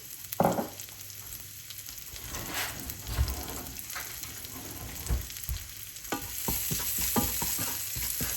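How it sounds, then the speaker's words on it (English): Chopped garlic fries in hot oil left from browning lamb shanks, giving a soft, crackling sizzle broken by several louder stirring scrapes and spatters, close by and fairly quiet. "we're going to add 2 teaspoons of garlic, chopped garlic"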